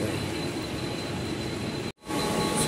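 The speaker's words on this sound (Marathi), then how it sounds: "आता ट्रेनमध्ये जातो आणि बसतो" A Mumbai local train rumbles steadily with a broad, continuous roar of wheels and carriage noise, briefly cutting out for a moment before the ride noise resumes just as loud.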